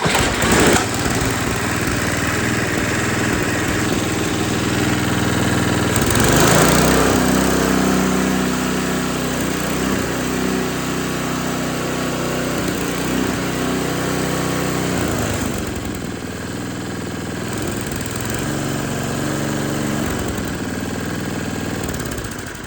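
A small snowblower engine runs at idle, giving a loud, steady buzzing drone with a surge of revving around the middle before it settles back to an even idle. The running continues unbroken throughout, with no speech.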